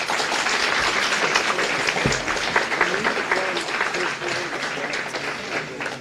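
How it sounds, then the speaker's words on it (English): Applause at a high school senior celebration breakfast, broad and sustained clapping from a large crowd at steady volume, with faint voices mixed into the wash. "Give them all a round of applause."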